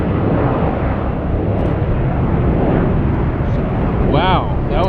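An Air Canada Airbus A330 taking off from LAX, a loud, close, continuous jet roar that fills the whole stretch without easing.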